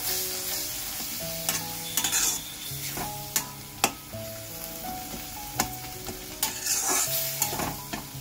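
Chili powder frying in hot oil for tomato rice gives a steady sizzle with repeated stirring scrapes and taps, under soft background music.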